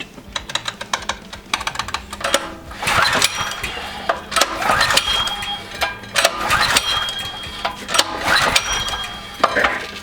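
A generator engine that has had a new carburetor fitted and has had gas left sitting in it is cranked over and over, with repeated loud pull-start bursts and sputtering tries that never settle into a steady run.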